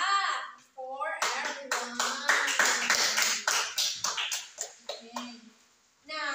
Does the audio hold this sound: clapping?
yes